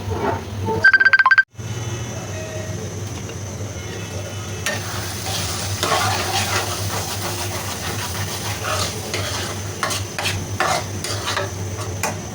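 Jackfruit seeds being stirred as they cook in a pan: a steady low sizzle and scraping stir runs throughout, preceded by a short loud burst near the start.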